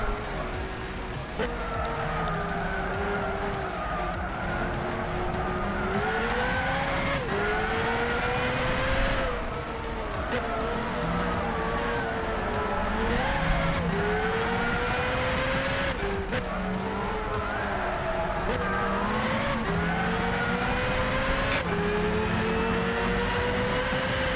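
Race cars in Gran Turismo 6 give a continuous engine whine that rises through the gears, then dips with each shift and climbs again, steady and loud for the whole stretch.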